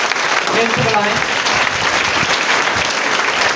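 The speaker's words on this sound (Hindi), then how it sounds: "मैं चाहूंगा ऐसी संस्था के लिए जोरदार ताली बजाएं।" Loud audience applause fills a hall at a direct selling company event, dense steady clapping throughout with a few voices mixed in under it.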